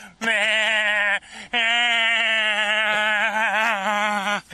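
A man imitates a sheep with a loud, sustained, wavering nasal bleat, two long bleats with a short break between them, close and alone.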